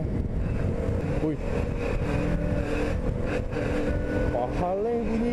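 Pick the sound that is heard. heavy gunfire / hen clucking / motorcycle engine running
motorcycle engine running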